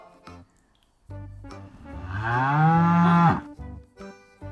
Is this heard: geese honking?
no